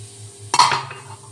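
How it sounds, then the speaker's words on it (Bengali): A spoon stirs oats dhokla batter mixed with Eno and a little water, giving one short, close scrape and clink against the bowl over a low steady hum. "ভালো করে মিশ্রণটা আরেকবার মিশিয়ে দিচ্ছি"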